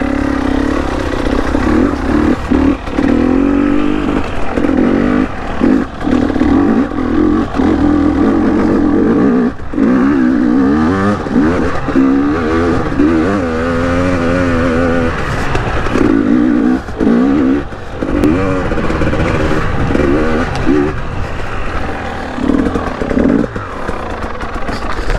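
A motorcycle rides a flowy trail in third gear, its engine loud and close and steady throughout, with brief rises and dips in revs over clattering from the machine.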